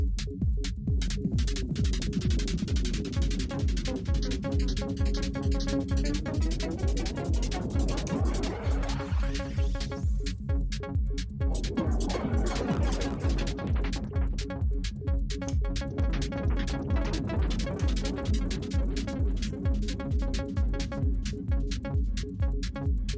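A dense pulsing electronic beat with sweeping, warping tones from the Time Warp effect on an Xone:PX5 DJ mixer, rising and falling across the mix, steady and loud throughout.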